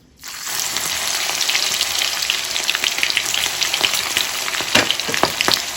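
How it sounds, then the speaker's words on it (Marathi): Okra pieces dropped into hot oil for bhaji, a sudden loud bright sizzle that starts at once and keeps crackling and spitting steadily, close up with no talking. "तेल तापलेलं आहे तर आता आपण थोडी थोडी भेंडी याच्यामध्ये घालायची"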